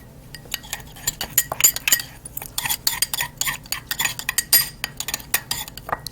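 Minced salmon and vegetable egg roll filling being stirred in a bowl, a steady run of close, wet scraping and clinking of a utensil against the dish, with no talking.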